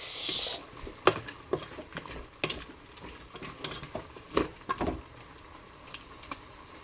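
Chicken tinola being stirred in a pot: scattered soft scrapes and clinks of a spoon against the pot at an uneven pace, fairly quiet, with no talking.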